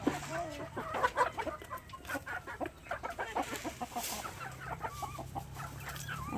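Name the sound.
backyard chickens clucking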